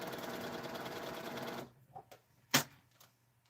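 A sewing machine stitches in a fast, steady mechanical whir for about a second and a half, then stops, followed by a few faint clicks and one sharp clack nearby.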